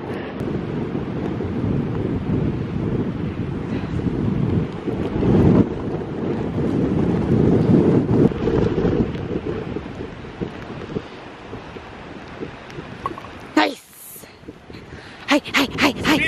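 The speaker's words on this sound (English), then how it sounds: "I'm trying to walk against the wind to keep my hood up" Strong gusty wind on a golf course buffets the microphone in a loud, continuous low rumble that swells and eases, with brief sharper bursts near the end.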